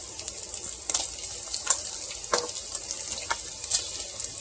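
Bacon sizzles and crackles in a hot pan, a steady bright frying hiss broken by sharp pops and spits close by.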